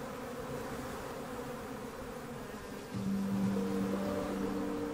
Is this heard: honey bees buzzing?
yes